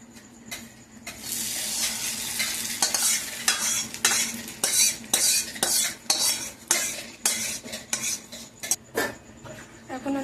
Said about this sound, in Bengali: এখন আমরা আমাদের চেনা ডাল আর বাদামের পেস্টটা ঢালে দিব।